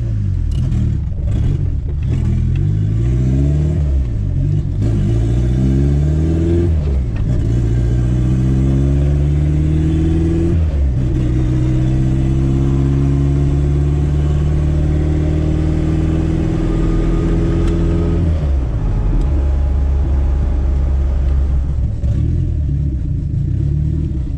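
Turbocharged Chevrolet Chevette engine revving repeatedly while the car is driven, loud and close, the pitch climbing and dropping through several rising sweeps with a constant droning rumble underneath.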